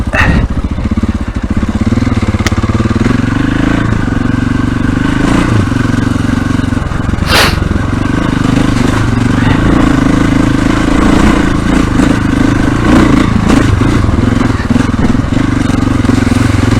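A motorcycle rides over a bumpy dirt track with the rider standing on the pegs in a fairly high gear, the engine droning loud and steady with clattering knocks from the rough ground throughout.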